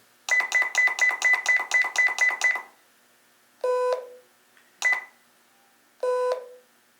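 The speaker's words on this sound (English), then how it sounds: "wait for the low beep tone" A fast run of about a dozen identical electronic beeps from a Ritron two-way radio being field programmed, then several separate single tones, some lower pitched, clear and close.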